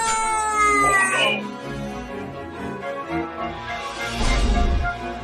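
A cartoon cat meows several times, with drawn-out, wavering cries in the opening second and another loud yowl near the end, alongside other cartoon sound effects.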